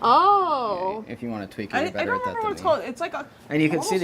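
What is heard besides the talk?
No distinct noise like a dog, phone or traffic.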